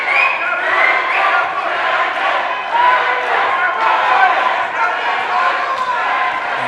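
At a featherweight boxing match, rival groups of fans for Brandon Cruz and Carlos Rangel keep up loud, dense crowd noise of cheers and shouting in an arena, swelling in waves throughout.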